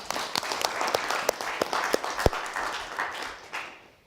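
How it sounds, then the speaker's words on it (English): Audience applause after a Team Malaysia innovation pitch, a modest crowd clapping with distinct individual claps standing out, fading away over about four seconds. "applause for the"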